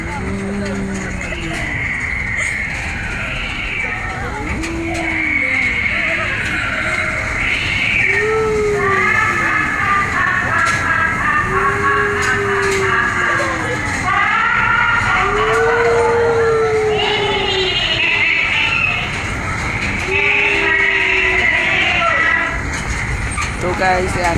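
On an amusement park ghost house train ride, eerie wailing, moaning effects rise and fall in repeated swoops over a rumbling background, with a voice talking throughout.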